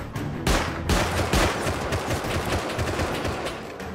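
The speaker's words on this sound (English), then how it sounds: "He shot me a couple times." Bursts of gunfire in the survival video game Rust, several loud sharp shots in quick succession early on followed by a sustained rattle of rapid fire that continues to the end, with no talking.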